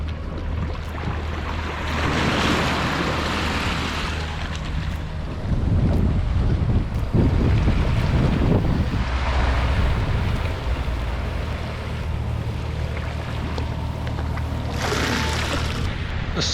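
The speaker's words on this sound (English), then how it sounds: "The swell washes right over the dock here when it gets big." Big ocean swell surges around a dinghy dock on St Eustatius, heard as a loud, continuous rush of water and wind buffeting, with heavier washing surges swelling around the middle and again near the end.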